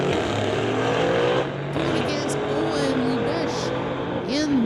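Drag race between a 2015 AMG and a 2019 Ford Mustang, loud continuous engine roar with rising and falling pitch as cars run the strip, an announcer talking over it.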